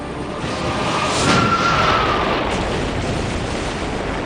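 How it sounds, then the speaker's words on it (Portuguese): A large explosion aboard a ship near a hovering Jayhawk H-60 helicopter: a loud, sustained roar with a rumbling blast swelling around the middle and slowly fading, with steady rotor-like noise throughout. "Uma grande explosão sacudiu o navio."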